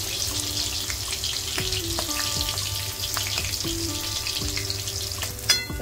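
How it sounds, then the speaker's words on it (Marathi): Green chilies fry in hot ghee in a wok, giving a steady, close sizzle throughout with faint clinks, alone without voices. "कढईत तूप गरम झालंय, त्यात मिरच्या टाकून घेतल्या हिरव्या।"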